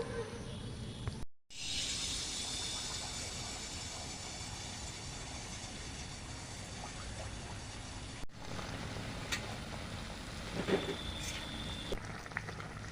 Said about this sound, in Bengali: এইভাবে আমি বাদ বাকি পোয়া পিঠাগুলো ভেজে নেব